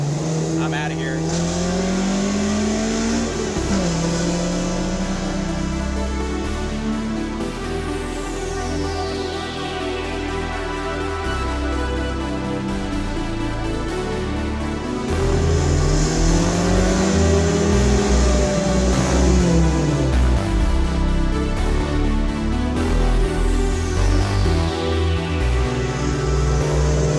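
A track-ready 1976 Alfa Romeo GTAm race car engine roars up close, climbing repeatedly through the revs with gear changes in between, loud and sustained throughout.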